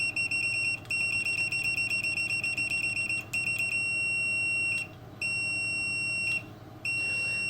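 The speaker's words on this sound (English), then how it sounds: "Continuity check or beeper is implemented very well, maybe even almost perfectly." Continuity beeper of a Hioki DT4256 multimeter, a steady high-pitched electronic tone switching instantly on and off in several bursts of varying length, some rapid stuttering beeps, loud and alone with no talking.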